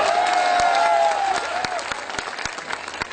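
An audience at a Hindi poetry recital claps steadily, filling the air with dense applause and some cheering. A voice calls out over it, and the clapping slowly thins.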